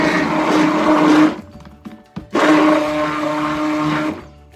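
A blender whirs loudly in two bursts separated by a short pause with a few clunks, close up, no voices, mixing soap.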